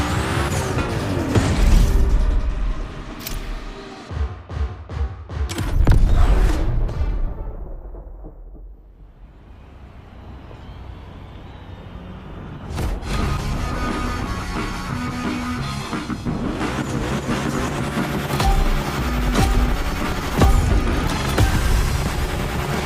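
A Hoonigan stunt car in The Crew Motorfest: engine revs and roars rise and fall, with mechanical clunks and bursts, a quieter lull in the middle, and the engine building back up and staying loud.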